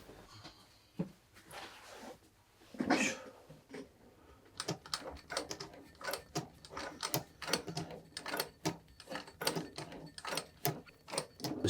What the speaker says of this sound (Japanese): 唯一ミシンを1箇所だけ使うので、